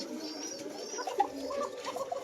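Pigeons on a farm, including koka birds with a thin call, coo faintly and steadily in the background, with a few brief higher calls rising over the low murmur.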